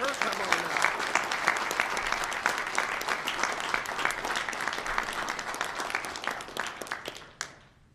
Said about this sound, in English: Officer Gonzalez, if we could give a hand for her today